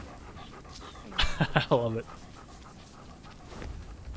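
Dog panting in rapid breathy bursts while being petted in the video game Graven, close and brief, with someone speaking over it.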